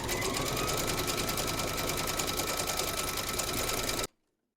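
An embroidery sewing machine stitches an Easter treat bag in a fast, steady, loud run of needle strokes for about four seconds, then stops abruptly into silence.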